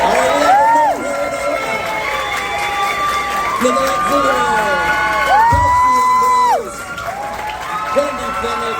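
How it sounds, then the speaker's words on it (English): Audience at a horror-convention panel stage cheering and whooping with scattered applause as panelists come out, a loud crowd roar with high shouts under an announcer's amplified voice naming people. "let's give a warm round of applause for all the rest of our panelists"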